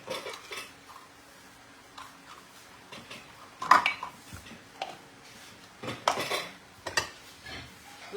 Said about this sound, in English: So she's mixing the dry things together